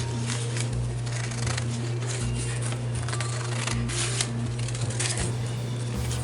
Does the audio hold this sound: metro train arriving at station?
no